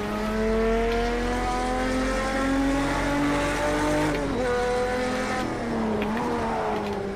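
A Porsche 917 race car, the Penske-developed version making about 1,000 horsepower, runs loud and steady with its engine pitch holding, then dipping and swelling again twice.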